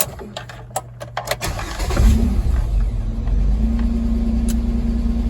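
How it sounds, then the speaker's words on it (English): A 2006 Chevy Equinox starts up after a few clicks and knocks, its engine catching and settling into a steady close rumble as it pulls away to drive, with no talking. "let's start it up and take it for a drive and see how it does."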